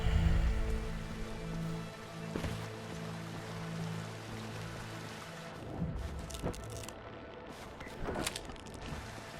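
Steady rain patters on surfaces outdoors, a continuous soft wash with a few louder drops and brief thumps from nearby.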